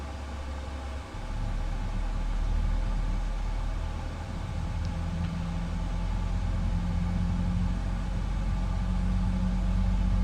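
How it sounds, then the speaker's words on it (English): In Microsoft Flight Simulator, the right engine of a Boeing 777-300ER spools up from its starter. A low rumbling drone builds after a brief quiet moment and then holds as a steady hum. "Right engine starter start."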